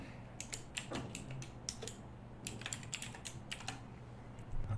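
Rapid typing on a computer keyboard, clicking keys in quick irregular bursts at close range over a low steady hum, with no voices.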